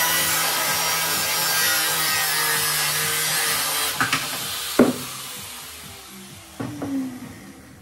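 A steel cross member tube is cut out of a custom motorcycle frame built from a CBR 125 frame: a steady, close scraping, sawing rasp that runs continuously, then breaks into a few sharp clanks and knocks near the end.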